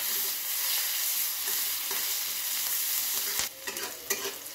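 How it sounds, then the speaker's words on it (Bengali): Chopped onion fries with cardamom, cinnamon and peppercorn, giving a steady hiss under stirring. Near the end, spoon scrapes and clatters break up the sizzle. "পেঁয়াজটা আমার ভাজা ভাজা হয়ে গেছে"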